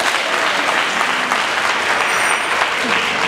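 A crowd at a public empowerment event for artisans claps steadily in dense, lively applause, with faint voices mixed in beneath it.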